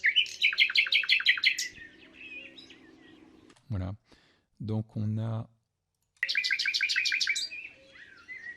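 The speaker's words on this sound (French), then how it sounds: "si on écoute là ce motif-là, en fait c'est un coucou" Rapid, repeated chirping bird calls from a nature field recording, heard in bursts at the start and end, with someone talking briefly in the quiet gap between them.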